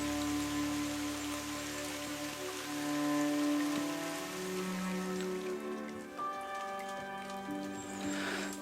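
Rain falling in a Scottish temperate rainforest, a steady patter of drops on leaves and ground, continuous and fairly close, with sustained tonal sounds running through it.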